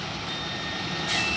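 Marcopolo Torino bus at the Pouso Alegre bus terminal in Minas Gerais, giving off steady repeating reversing beeps over a constant engine hum, with a brief hiss near the end.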